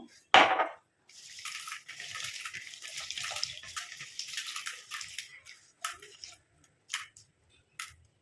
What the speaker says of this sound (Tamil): இப்போ இதில் வந்து தண்ணி ஊற்றிட்டு வாஷ் பண்ணிட்டு நம்ம எடுத்துக்கலாம்